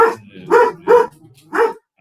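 Dogs bark in four distinct loud, close barks spaced roughly half a second apart, with a brief quiet gap near the end and no talk over them.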